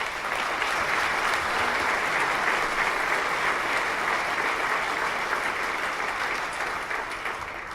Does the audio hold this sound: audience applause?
yes